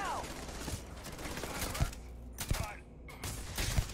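Gunfire in a shooter video game, several sharp shots popping at irregular intervals over a steady background of game noise and music.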